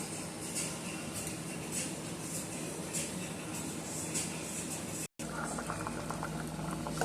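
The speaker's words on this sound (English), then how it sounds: "we'll just let that boil until my noodles are cooked thoroughly" Noodles boiling in a lidded pot, a steady bubbling patter and rumble that cuts out for a brief moment before resuming, with no talking heard.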